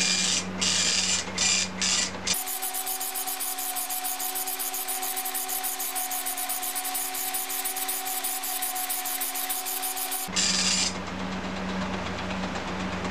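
An Epson FX-86e dot matrix printer rattles steadily for about eight seconds, its buzzing head chattering continuously between shorter bursts of mechanical noise at the start and end.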